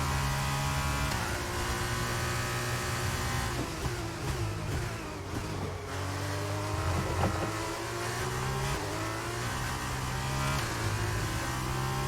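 Formula 1 car engine in the racing game F1 22, a continuous high screaming whine that rises and falls through repeated upshifts and downshifts during a race lap, with no voices.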